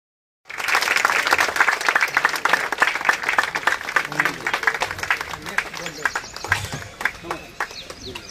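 Audience applause at a development-works inauguration event, a dense sustained crowd clapping that starts abruptly and continues loudly throughout with a few claps standing out.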